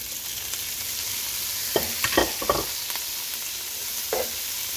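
Bean sprouts and onion stir-fried for kimchi fried rice, a steady background sizzle broken by a short cluster of scraping stirs and one later scrape.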